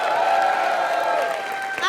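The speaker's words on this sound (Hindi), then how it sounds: "तालियां" A comedy show's studio audience breaks into applause, a full, even clapping swell mixed with crowd noise and faint cheers that holds steady before thinning slightly at the end.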